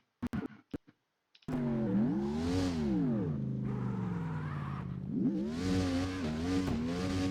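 Truck engine in the CarX Drift video game, a few sharp clicks then a loud sustained engine roar that rises and falls in pitch through repeated revs, heard alone without talk.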